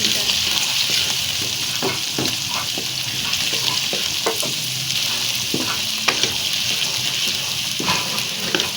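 Potatoes fry in a pan for a spiced aloo matar methi dish, giving a steady, close sizzle broken by occasional stirring clatters.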